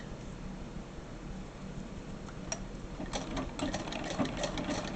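A 1911 Singer treadle sewing machine running, its steady mechanical whir turning into a faster, louder rhythmic clatter of needle strokes in the second half, close by and with no voices.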